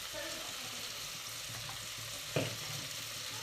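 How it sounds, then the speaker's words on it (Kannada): Pulao ingredients fry quietly in a pan with a soft, steady sizzle, a few scraping stirs, and one sharper clatter partway through, close but faint. "ಇನ್ನು ಸ್ವಲ್ಪ ಹೊತ್ತು ಫ್ರೈ ಮಾಡ್ತೀನಿ"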